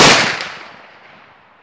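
A single loud, sharp blast from a Knight Revolution .50 caliber muzzleloader rifle, heard alone at the very start and fading into a long trailing echo.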